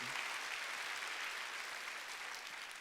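Members of a church congregation at a Wednesday worship service clap together, a soft, even patter of applause that slowly tapers off, with no talking over it.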